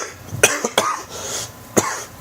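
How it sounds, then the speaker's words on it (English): A person with a lingering cough coughs three times, sharp and close, with brief gaps between the hacks. "but I still have this cough"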